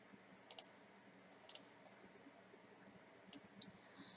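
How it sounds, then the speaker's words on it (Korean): Crisp, close computer mouse clicks come in quick pairs, three double clicks spaced apart in a quiet room. "더블 클릭."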